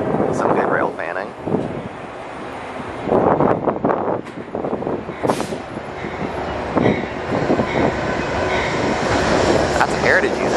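A train rumbles past on elevated tracks at Harlem 125th Street station in New York, a loud, continuous roar with wind buffeting the microphone and a voice speaking over parts of it.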